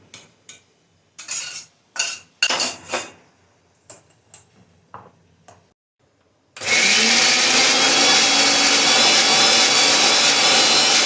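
A few clinks and knocks, then a mixer grinder starts up and whirs steadily and loudly as it blends roasted chana chutney.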